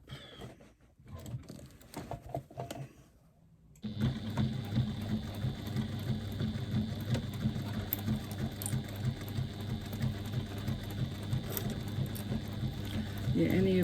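A sewing machine stitches foam bag-making material, a quiet start with brief pauses, then a steady close whir of rapid needle strokes, with a voice speaking at moments.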